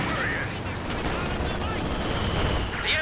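A coordinated artillery barrage in the Company of Heroes 2 strategy game thunders in dense, continuous blasts and rumbling explosions, loud and close, with brief whistling shells overhead and a voice talking over the din.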